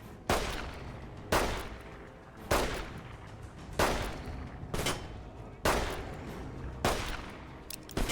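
Gunfire in a video game rings out as sharp, loud bursts about once a second, each trailing off briefly before the next, seven or so in a steady rhythm.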